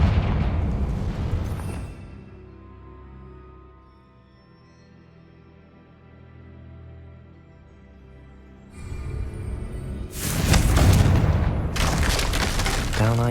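A Confringo spell fired in the video game Hogwarts Legacy, a deep rumbling boom that fades into a low roar before a second burst of loud crackling blasts near the end.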